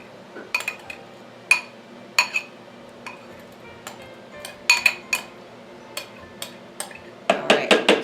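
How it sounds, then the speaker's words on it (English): A metal spoon scrapes and clinks against the bowl of a food processor while clearing out ground almonds and seeds, making sharp, sporadic taps and clicks that end in a quick cluster of louder scrapes. "I'm going to take my spoon and get all the good stuff out of there."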